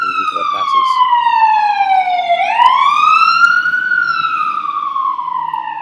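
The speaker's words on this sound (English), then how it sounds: "oh man, these sirens" Police sirens passing outside, a loud continuous wail sweeping down then rising again in pitch, steady and close throughout the few seconds.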